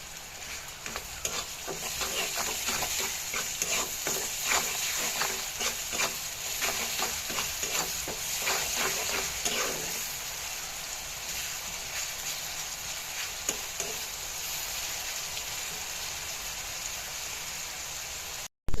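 Sliced onions with salt sizzle and fry steadily in a pan, a continuous crackling hiss with stirring scrapes through the first half, then a quieter, even sizzle.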